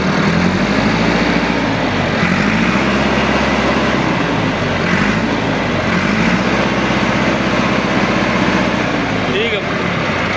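A Massey Ferguson 375 tractor engine runs close by, its heavy diesel note rising and falling through several revs over a steady idle.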